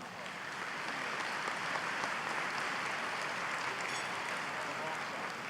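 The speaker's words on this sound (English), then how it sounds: "Let's give them all a round of applause" Audience applause at an annual meeting award ceremony honoring student All-Stars and their parents on stage, a steady wash of clapping from a large room that holds even and dense throughout.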